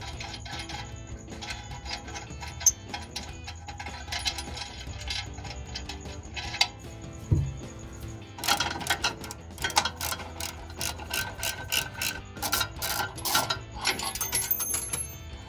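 Metallic clinks and ratcheting while bolts come off the exhaust X-pipe of a 2011-2014 Mustang V6, a wrench working in bursts with a busier stretch of clicks and taps in the second half, no talking.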